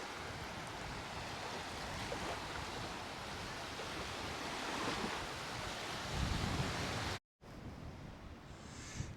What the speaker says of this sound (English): I'd also love listening to the sea.